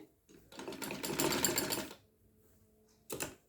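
A sewing machine runs a double line of stitching to attach dori piping on a kameez, heard as one buzzing, rattling run of about a second and a half, a pause with low hum, then a short second burst, close and alone.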